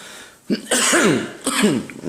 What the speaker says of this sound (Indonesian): Seperti aku batuk ya batuk aja